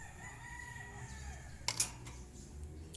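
Chickens crow and call in the distance over a faint, steady background hum, with a short sharp burst of sound partway through.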